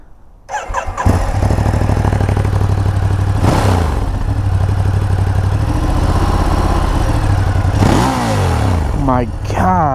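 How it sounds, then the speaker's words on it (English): A 2016 Ducati Monster 1200R motorcycle engine starts and settles into a loud, steady idle close by, with a couple of brief throttle blips that rise and fall before it returns to a lumpy, continuous rumble. "let's listen to this thing"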